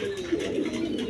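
Pigeons kept by a seller coo in a soft, continuous low murmur, close by, with no talking over them.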